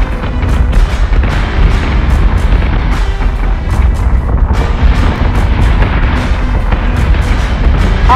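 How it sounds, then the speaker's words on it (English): Heavy spaceship battery fire in a Battlestar Galactica space battle: a dense, continuous barrage of booming artillery blasts and explosions, loud and close, rumbling without pause. "Set secondary battery. Full attack mode. Fire at will."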